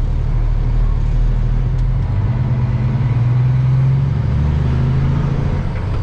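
Semi truck hauling a slow trailer with a flashing beacon on a highway, a loud steady low engine rumble and road noise from inside the cab, continuous with no talking.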